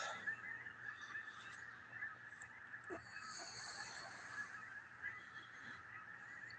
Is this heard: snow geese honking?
yes